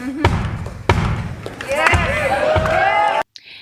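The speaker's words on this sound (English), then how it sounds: "starting with the drum break at about 3 minutes and 16 seconds" A drum break from a rhythm tap performance gives heavy, punchy hits and a dense low groove, with a brighter melodic line sliding in near the end before an abrupt cut.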